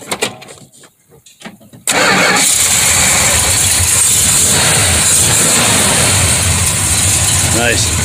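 A car engine cranks and catches, roaring to life abruptly after a few quiet seconds with faint movement, then settling into a loud, steady idle close to the microphone.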